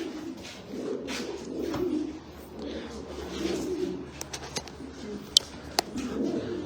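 Pigeons cooing steadily at close range, soft low throaty coos repeating through a quiet setting, with a few sharp clicks and brief taps toward the end.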